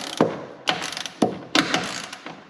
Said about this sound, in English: as you finally tighten this down, it's gonna hold it in place nice and snug